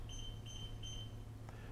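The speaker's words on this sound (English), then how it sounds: "3 beeps tells us to go ahead and enter the new combination numbers" An electronic combination lock gives three short, faint beeps in an even rhythm during a change key operation, followed by a small click.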